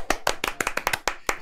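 Rapid, close hand clapping, around nine claps in just over a second, brisk and steady without any speech.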